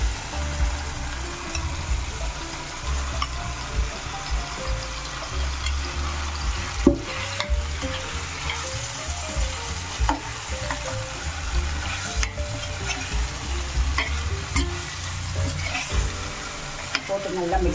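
Masala potatoes being stirred in a frying pan give a close, steady sizzle with repeated scraping and clattering of the spoon, continuous throughout with no voices.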